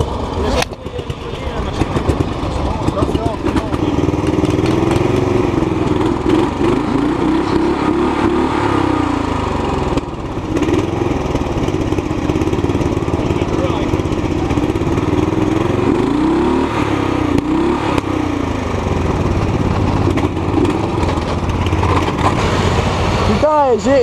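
A motorbike engine with a clogged carburettor runs loud and continuously, its pitch rising and falling in uneven revs, with people talking over it throughout.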